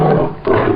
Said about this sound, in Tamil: சிங்கம் கர்ஜிக்கும் சத்தம்.